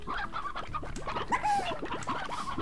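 Chickens in the Slime Rancher video game clucking in a dense, overlapping stream of short, chirpy calls, several birds at once, fairly close and steady throughout with no talking.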